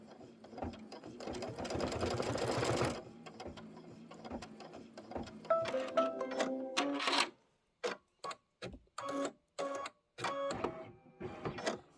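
A home embroidery machine stitches a rickrack placement line on a Halloween pillow block, a loud, dense, rapid mechanical clatter that then breaks into short separate bursts with brief silent gaps between them, with no talk.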